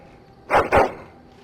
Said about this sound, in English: Happy bark.